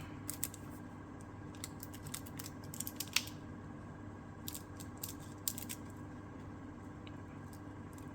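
Scissors cut a piece of delicate fantasy film, giving small crisp snips and crinkly ticks in scattered clusters over a steady low background hum.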